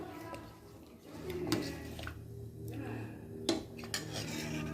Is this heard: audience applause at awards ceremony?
no